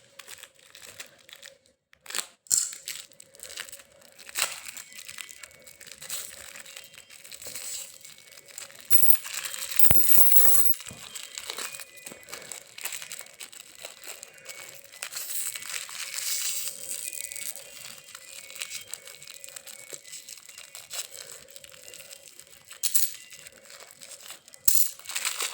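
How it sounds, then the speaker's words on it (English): A small package of old Indian princely state coins from 1947 being opened, with steady close crinkling and crumpling of the wrapper and occasional metallic clinks of coins, lasting throughout with a louder burst midway. "let's open this small package"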